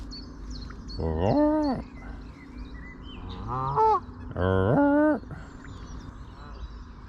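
Canada geese honk in three loud bursts, each a rapid series of nasal calls, standing out over a quiet outdoor background.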